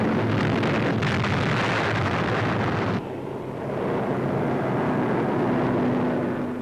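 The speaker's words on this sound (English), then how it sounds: "Soviet surface ships race to the scene and blast the area with a pattern of depth charges." Depth charges from Soviet surface ships blasting the sea in a 1943 wartime newsreel, heard as a loud, continuous roaring wash of noise that drops briefly and swells again, with no voices.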